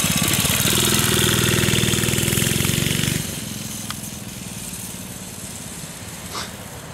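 A minibike engine on a test ride after a chain lube fix, buzzing loud and high-revving for about three seconds before dropping to a quieter, more distant drone as the bike moves off.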